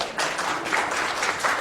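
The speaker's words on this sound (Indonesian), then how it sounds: "Tepuk tangan buat Tuhan kita." Church congregation clapping together during an Indonesian sermon, a dense, steady wash of applause in quick pulses lasting the whole moment, moderately loud and close.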